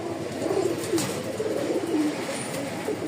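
Rajshahi Giribaz pigeons coo in soft, repeated low calls, fairly close, over a steady background hum with no talking.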